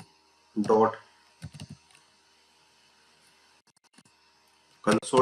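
Code is typed on a computer keyboard in quiet, scattered bursts of clicks, with someone speaking between them.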